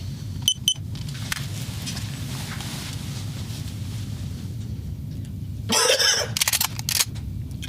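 A single short cough near the end over a steady low engine-like hum, with a few faint clicks earlier on.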